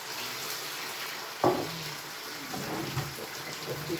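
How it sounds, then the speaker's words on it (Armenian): Water is poured into a pot of meat simmering on low heat for Armenian ishli kyufta, starting as a sudden close splash and settling into a bubbling, sizzling wash over steady kitchen noise. "մի քիչ ջուր բերեցի, քիչ ջուր ավելացնենք"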